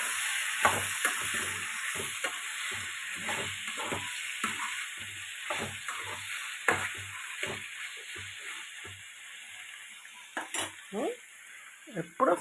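Bottle gourd and tomato curry stirred in a frying pan, a loud, close sizzle broken by repeated rhythmic spoon strokes and scrapes, with a few metal clinks near the end.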